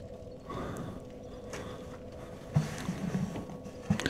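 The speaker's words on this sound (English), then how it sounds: "You can hear me breathing." Faint breathing close to a microphone, with soft, drawn-out exhales and a few louder puffs near the end over low background noise.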